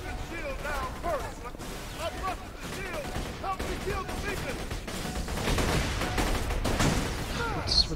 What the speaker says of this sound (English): There's mortars. Watch out.